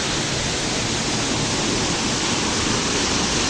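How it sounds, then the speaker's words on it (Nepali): A waterfall at a pool where people swim gives a steady, dense rush of falling water, an even broadband roar with no breaks. "ल यही झरना हो।"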